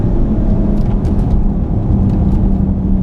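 A 2015 VW Golf R engine held high in its rev range during hard cornering, a loud, steady, droning roar with road rumble that stays near constant throughout, no voices.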